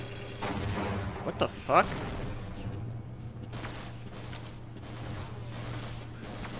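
Gunfire in the video game Half-Life, bursts of fusillade and a few sharp shots mixed with game noise, at moderate level while a player exclaims and talks over it.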